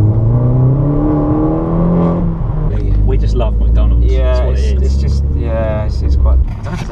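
A car rumbles and revs as it pulls out of a parking spot, with a low, steady engine hum throughout while people talk over it inside the car.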